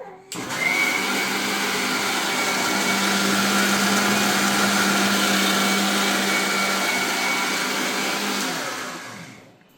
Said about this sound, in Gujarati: આપણે ડુંગળી, ટમેટું, આદુ ને મરચું પીસાઈને કમ્પ્લીટ છે.